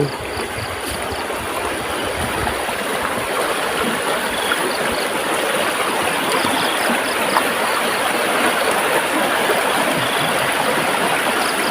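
Stream water flowing along a rural paddy-field channel in Laos, a steady, close rushing and gurgling that continues without a break, with no voices over it.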